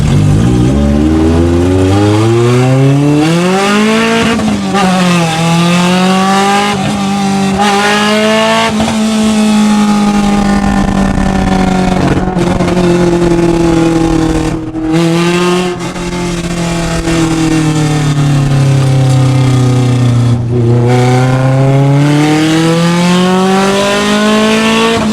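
A Honda Civic with a very loud exhaust accelerates hard through the gears. A close, roaring engine note climbs in pitch, drops at each quick shift and climbs again over about twenty-five seconds, with no talking.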